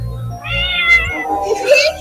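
A cat meows close by, a single drawn-out, wavering call that rises and bends into a strained, yowling tone near the end, with no one talking over it.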